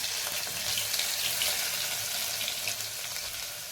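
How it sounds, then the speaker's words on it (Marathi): Mustard seeds, cumin and crushed garlic cloves hit hot oil in a pan, giving a steady, close crackling sizzle that holds evenly throughout with no voices. "तेल गरम झालं की त्यामध्ये टाकूयात अर्धा चमचा मोहरी अर्धा चमचा जिरं सात ते आठ लसूण पाकळ्या ठेचून घेतलेले"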